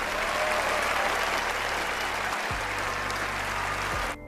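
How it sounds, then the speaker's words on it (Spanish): Steady, close applause rolls on for about four seconds as a dense wash of many hands clapping, then cuts off abruptly. "Un aplauso."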